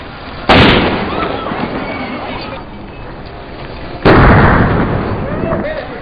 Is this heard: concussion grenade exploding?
yes